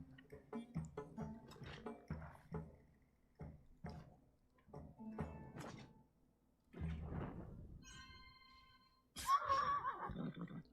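A horse neighs in the game Wartales, a shrill whinny near the end that follows a run of thuds, scrapes and clattering effects.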